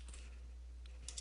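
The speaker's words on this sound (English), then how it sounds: "I'm going to just correct that as I'm typing it" Keys tapped on a computer keyboard while a sentence is being corrected, a few soft, scattered clicks over a quiet low hum, sparse at first and bunching into a quick cluster near the end.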